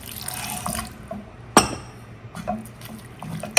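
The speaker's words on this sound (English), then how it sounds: "I'm going to add in a little bit of water." Water is poured into a pan of vegan Indian pea curry, with splashing and liquid gurgling, a sharp clatter midway and scattered small knocks, no talking.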